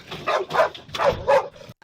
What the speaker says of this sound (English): The dog is in this car right now barking.